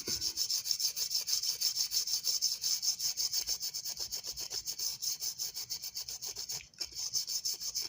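A prewar American Flyer Texaco toy tank car from around 1929-32 being rubbed down with rubbing alcohol, heard as a fast, steady back-and-forth scrubbing that is close and continuous, briefly breaking off near the end.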